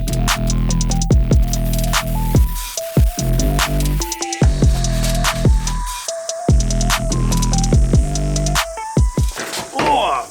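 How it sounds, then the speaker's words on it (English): Steel bar feet welded onto the base of a homemade forge furnace, a loud droning electrical buzz and hum that cuts in and out in repeated bursts over several seconds, with a crackling spatter near the end. "what we're doing now is welding the feet onto the bottom of the furnace"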